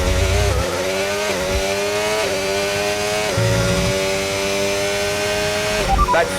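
Formula 1 race cars in the F1 25 video game scream past at the Texas circuit, engines rising through gears in sustained high-pitched whines, with shifts and overlapping cars near and loud.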